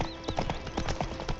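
Roach the horse trots along in The Witcher 3, hooves clip-clopping in a quick, steady rhythm close by against a low background hum.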